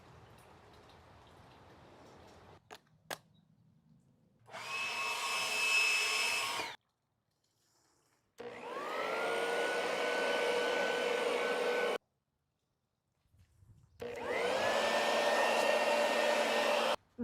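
Corded and cordless electric leaf blowers run in three separate bursts of steady, loud whirring roar, each with a quick spin-up and a sudden cutoff, with near-silent gaps between.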